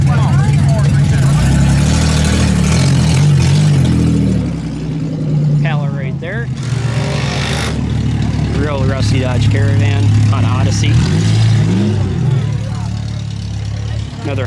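A van in a demolition derby rumbles past with a loud, steady engine roar and revving that swells and fades, while crowd voices and chatter carry on throughout.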